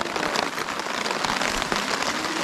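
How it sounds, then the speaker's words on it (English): Heavy rain pours at Aug Lake near Mount Assiniboine, heard from under a tarp at a wet campsite as a dense, steady hiss of drops pattering on surfaces with no voices. "Well, it's pouring rain here at Aug Lake"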